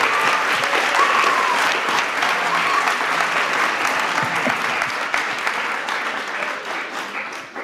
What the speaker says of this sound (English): Can we give another round of applause for all our veterans?